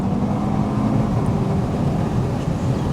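A Nardo Grey pre-facelift Audi RS3 8V hatchback drives along with a loud, steady low engine and exhaust drone mixed with road and wind rush, with no voices.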